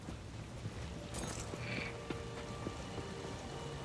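Frogs croak faintly in the video game Path of Exile 2, a few soft repeated calls over a quiet, rain-like ambient wash with no talking.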